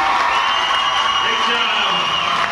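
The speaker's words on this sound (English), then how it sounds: "let's try and give a big round of applause for the band who kept their feet moving all evening" Broad, steady crowd noise fills a hall as the audience at an Irish dance school show applauds the band, loud and continuous with a faint cheer or two under it.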